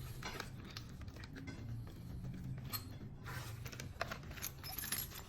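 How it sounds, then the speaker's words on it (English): Wrenches and Allen wrenches from the tool kit of an ET. Cycle T720 clink and rattle, making faint, close metallic jangling with irregular taps. "got some tools in here, so hopefully we can just utilize those for putting together. Some wrenches, Allen wrenches."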